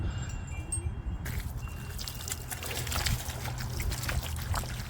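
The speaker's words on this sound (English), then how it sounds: "Now I'm just going to grab the hose and do a final rinse off." A garden hose rinses a pair of old sneakers, a steady hissing, splashing spray that starts abruptly and continues, fairly close, with no talking.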